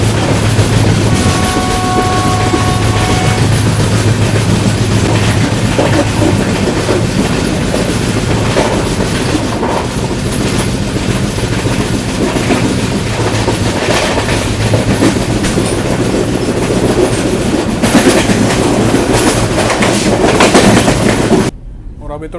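The Ernakulam–Mumbai LTT Duronto Express runs at speed past Chiplun on the Konkan Railway, with a constant loud rumble and clatter of wheels and brief horn tones early on, heard from on board.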